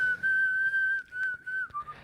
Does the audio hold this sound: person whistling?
yes